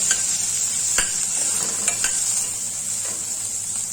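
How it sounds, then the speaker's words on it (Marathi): Onion sautéing in a pan, a continuous close sizzle with a few sharp clicks of a spatula stirring. "कांदा आपण परतून घेतोय"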